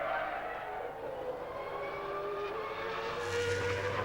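Mika Häkkinen's Formula One race car from the 2000 season sweeps through the last corner, a high, whining engine note heard at a distance over crowd and track ambience, swelling slightly toward the end.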